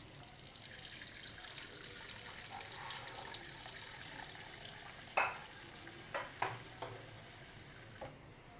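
Water poured from a tap into a cooking pot during beef preparation, a steady splashing stream with a few sharp clunks of the pot near the end.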